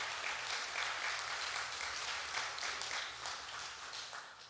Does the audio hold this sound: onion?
no